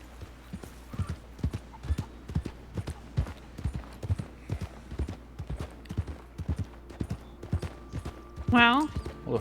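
A horse's hooves clip-clop at a steady walking pace in a Red Dead RP video game, close and even, with a voice talking over them and a short neigh near the end.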